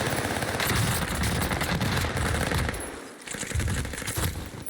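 Rapid automatic gunfire in Warzone 2 rattles in dense, loud bursts for several seconds, breaking off briefly near the end before resuming, with no talk over it.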